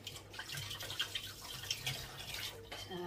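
Washed knitted items rinsed in a basin of water, with soft sloshing, dripping and splashing in a steady irregular patter, fairly quiet and close.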